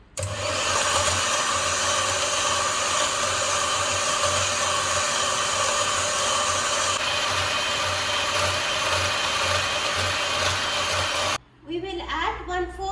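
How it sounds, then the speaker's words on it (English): Cream whisked in a large mixing bowl: a loud, even motorized whirring drone that runs steadily and then cuts off abruptly near the end, leaving a moment of quieter room sound. "We will whisk the cream."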